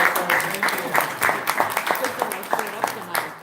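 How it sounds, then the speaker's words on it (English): Applause from a small speakers bureau meeting audience for a speaker, close and fairly loud, with rapid overlapping claps and voices mixed in. "Let's give Gary a round of applause"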